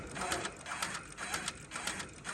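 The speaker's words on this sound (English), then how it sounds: "now it's going back in and doing satin stitches" An embroidery machine sews satin stitches on a fitness logo, a steady mechanical whirring with a rhythmic pulse of needle strokes that slows slightly where long satin jumps are made.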